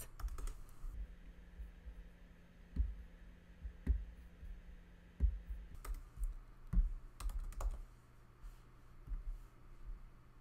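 Someone types on a computer keyboard at a crafting desk, giving scattered, faint key clicks in short irregular bursts with pauses between them, over a low steady room hum and with no talking.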